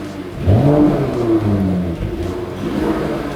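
A Mercedes CLS 53 AMG engine revs through its exhaust, rising sharply into a loud, close rev that sweeps up and down before settling into a steady idle rumble, with no talking.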